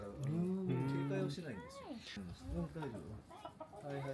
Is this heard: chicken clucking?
yes